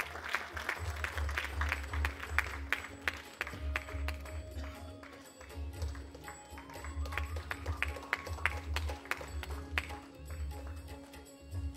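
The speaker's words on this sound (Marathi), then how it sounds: "जोरदार टाळ्या त्यांच्यासाठी मंडळी." Clapping at the launch event of the Marathi kirtan show Kon Honar Maharashtracha Ladka Kirtankar: an audience applauds in uneven bursts over a low, rhythmic thumping beat.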